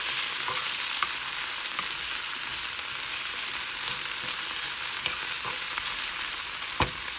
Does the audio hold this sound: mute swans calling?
no